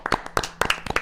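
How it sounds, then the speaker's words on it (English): A handful of people give a light, scattered golf clap at a casual birthday gathering, with sparse, uneven claps close by in an irregular rhythm over about a second. "Golf clap"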